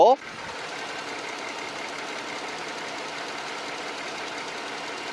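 A 3.0-litre large sedan engine, a 2018 model, idles steadily and smoothly, a continuous low hum with a faint rhythmic knock, close by, after a brief opening blip.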